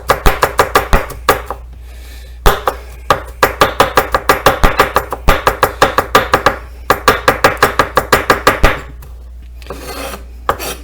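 A knife chops garlic on a cutting board in quick, loud, rhythmic bursts of sharp taps, with short pauses between runs and no talking.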